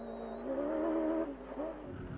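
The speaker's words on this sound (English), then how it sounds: "the truck drivers don't see the buggy driving up from behind, cloaked in an immense dust cloud" Rally buggy driving up behind trucks on a dusty track, its engine droning and revving with a wavering pitch, fairly faint at moderate distance, with no talk.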